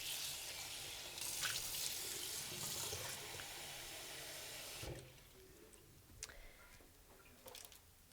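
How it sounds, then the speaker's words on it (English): Tap water pours steadily into a bowl for a soap and play-dough craft, a loud continuous rush for about five seconds before it stops, followed by a few faint clinks and drips. "I'm going to add a little bit of water to this bowl."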